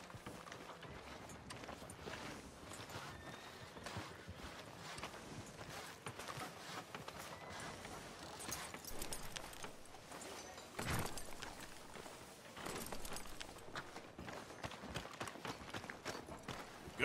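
A horse's hooves clip-clop along a town street in Red Dead Redemption 2, a quiet irregular run of hoofbeats over soft background ambience.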